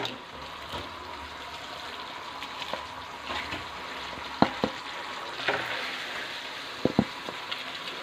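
Fried chicken tossed into a spicy mixture in a kitchen pan, giving a low steady sizzle with scattered sharp clinks and scrapes of stirring, fairly quiet and close, no voices.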